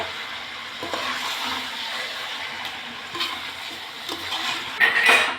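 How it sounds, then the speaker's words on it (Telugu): Chicken curry stirred in a pan, a steady frying sizzle with scraping and clinks of a spoon against metal, a few louder knocks near the end; no talking. "చికిన మొత్తం ఇలా కలిపేసుకోవాలి"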